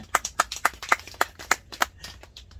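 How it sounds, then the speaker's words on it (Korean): Scattered hand claps from a small audience at an agricultural lecture on Shine Muscat grape growing, a dozen or so sharp, irregular claps spread over a couple of seconds with no talking. "배꼽 튀어나온 사람 박수 한번 치시다"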